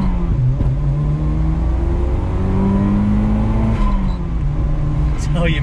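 A 1994 Toyota Celica GT-Four pulls hard under full throttle, its engine note droning loud and close as revs climb steadily, with a brief dip at a gear change near the end.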